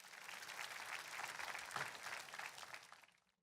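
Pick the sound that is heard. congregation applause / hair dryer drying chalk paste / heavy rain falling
congregation applause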